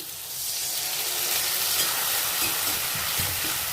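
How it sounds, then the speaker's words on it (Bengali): Pointed gourd fries with green and red chilli and poppy seed paste in a pan, giving a loud continuous sizzle and hiss close up, with a few faint stirring knocks toward the end. "দিয়ে দেবো পটল, পটলটা ভাজা হয়ে গেছে। এবার দিয়ে দেবো বেটে রাখা কাঁচা পাকা লঙ্কা আর পোস্তটা"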